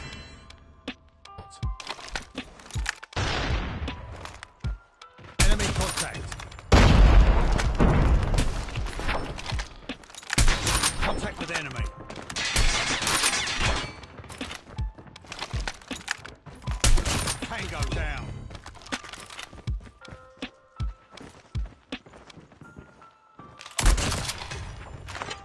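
Gunfire in a shooter video game: repeated loud bursts of shots and booms, in clusters separated by brief quieter gaps, close and sharp throughout.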